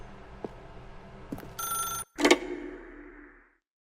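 A telephone rings once in the video game The Stanley Parable. Faint taps come before a bright, close electronic bell trill, then a short gap, a sharp louder burst and a ringing tail that fades to silence.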